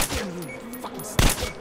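Rapid bursts of gunfire from a firefight in the video game Metro Last Light Redux on PS4, loud and close, with a heavy volley at the start and another about a second later.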